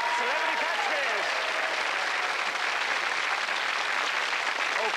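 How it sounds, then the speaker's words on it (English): A studio audience at the 1991 British TV game show Catchphrase applauds steadily and loudly for the full length, a dense wash of clapping with a voice briefly audible over it at the start. "Give them all a big round of applause."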